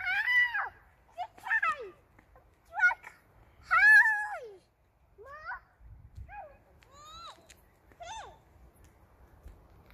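A toddler about two years old repeatedly imitates a cat's meow in a series of drawn-out, rising and falling cries with short pauses between them, close and fairly clear over a quiet background.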